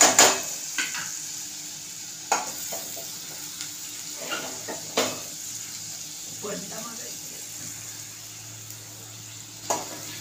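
Chana dal being sautéed in a pan for a bottle gourd curry, with soft stirring scrapes and light clinks of a utensil against the pan over a faint sizzle, intermittent and close.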